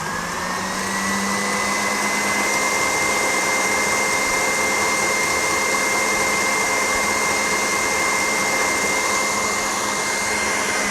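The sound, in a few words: electric mixer whipping cream for mascarpone frosting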